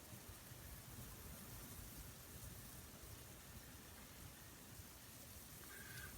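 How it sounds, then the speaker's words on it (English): Sleet and rain fall during Winter Storm Jonas, a faint, steady wash of hiss and patter with a low rumble beneath, unchanging throughout and without voices. "But you can hear it, so it's almost like a sleet rain now."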